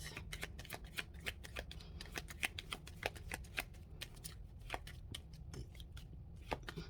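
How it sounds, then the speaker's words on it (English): Tarot cards are shuffled by hand in a quick, irregular patter of crisp riffling flicks, close and fairly quiet, with no voices. "I'm going to do one more shuffle because I usually just do two"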